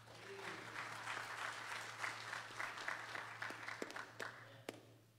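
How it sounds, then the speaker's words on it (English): A church congregation applauds a gospel choir at a Sunday service, a steady round of fairly faint, distant applause over a low electrical hum, ending with a few sharp, separate claps. "Let's give this choir another great round of applause."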